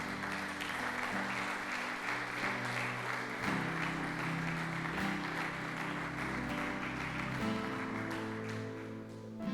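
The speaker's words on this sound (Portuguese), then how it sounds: "Será que você pode aplaudir a Jesus por isso?" Church congregation applauding, a sustained broad wash of clapping at moderate distance, with organ or keyboard chords sounding underneath throughout.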